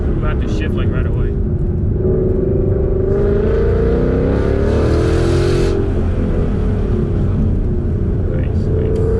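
Ford Mustang PP2 engine on a race track, holding a steady loud drone in second gear with a slight rise in pitch mid-way, with people talking over it inside the car.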